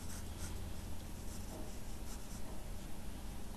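A pencil scratches and rubs continuously across paper in close, soft strokes while sketching the outline of a futuristic rifle, with no voices.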